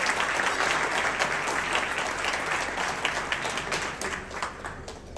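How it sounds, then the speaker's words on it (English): Sustained applause from a large audience at a Democratic Party county gala dinner on Staten Island, dense and steady throughout, tapering slightly toward the end. "So I'd like to give them a round of applause."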